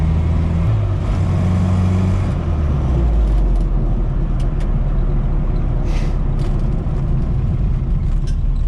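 Classic Mini 1275GTS driving on the road, heard from inside: a steady loud engine drone with gear-change pitch shifts early on, then continuous low rumble and road noise, without talking.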